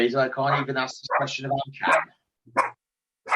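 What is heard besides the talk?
dog barking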